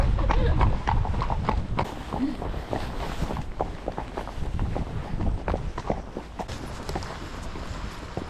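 Horse hooves clip-clop steadily and close during a trail ride in Chantilly, France, a continuous walking rhythm of many hoof strikes with faint outdoor rustle and brief talk near the start.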